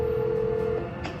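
Telephone dialing, a sustained touch-tone beep followed by a brief second tone, close and clear with a faint background hum.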